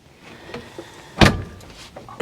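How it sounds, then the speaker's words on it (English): A Splendide RV washer dryer door swings shut with one firm thump at mid-clip, preceded by a few faint taps and followed by a softer knock. "So we're going to go ahead and shut the door."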